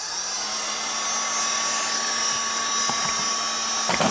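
A heat tool blows steadily and loudly at close range while heating a carburetor-side part on a long-dormant engine. The whine is an even, continuous hiss, with a couple of faint clicks near the end and no talking.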